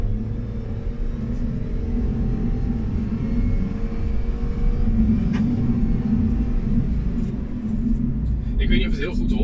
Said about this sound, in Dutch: je hoort af en toe dat het toerental iets stijgt, weer terugzakt, iets stijgt